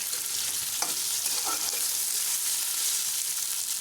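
Onions and green chillies sizzling and frying in a pan, a steady bright crackle with occasional stirring scrapes, close and continuous.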